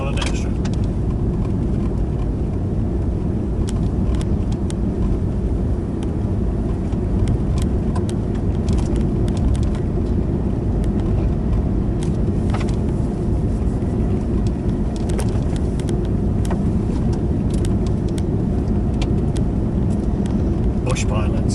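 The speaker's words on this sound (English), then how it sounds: "we're driving on an airstrip." A car rolls steadily along a graded gravel airstrip, its tires giving a constant close rumble and crunch with scattered stone ticks, while the engine hums low throughout.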